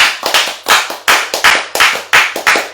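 A church congregation claps together in a loud, steady rhythm of close, sharp handclaps, with no voices over it.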